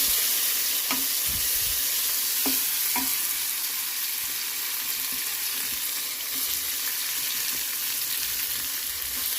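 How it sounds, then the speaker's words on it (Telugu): Onion, green chilli, garlic, mango pieces and tomato fry in a pan with a steady, close sizzle, broken by a few sharp clicks and scrapes from stirring. "ఉల్లిగడ్డ బ్రౌన్ అయింది, పచ్చిమిర్చి కూడా మంచిగా ఫ్రై అయినాయి"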